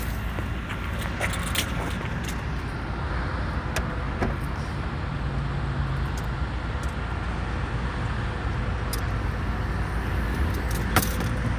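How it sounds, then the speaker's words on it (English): Steady road traffic on a city street in Bakersfield, California, with cars passing close by, a continuous roar of engines and tires, brief rattles and clicks, and no talking. "So traffic's opening up, guys."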